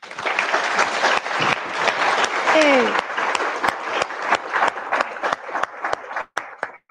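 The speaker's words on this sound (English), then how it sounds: "I feel like we need a little round of applause" Audience at a live podcast recording breaks into a lively round of applause. Dense clapping is joined by a brief whoop and a short shout, then it thins to scattered final claps.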